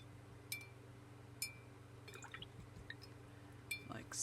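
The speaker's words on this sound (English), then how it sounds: "I'm just going to rinse my brush out" A paintbrush rinsed in a small container of water gives a few sharp drips and splashes, then a brief swishing burst near the end, all close and fairly quiet against a faint background hum.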